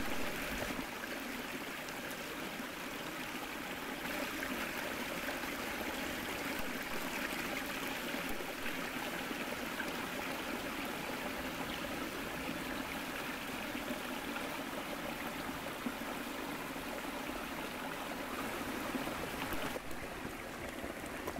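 A small shallow stream flowing steadily, a soft continuous trickling and gurgling of water at moderate distance, quiet and unbroken throughout with no talk.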